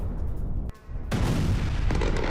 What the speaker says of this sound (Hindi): मॉस्को के 11 इलाकों में सुने गए धमाके